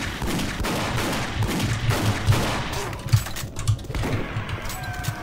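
Rapid gunfire in Doom 3 rings out as enemies are shot, a steady stream of loud shots with sharper peaks near the end, over continuous game noise.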